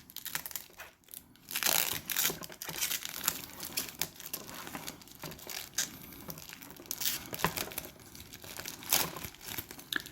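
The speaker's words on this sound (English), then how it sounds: "So this plastic that I just unwrapped is quite sticky." Sticky plastic wrap from a Wedding Yae Sakura figure is peeled and crumpled close by, giving irregular crinkles and tearing crackles with brief pauses over about ten seconds.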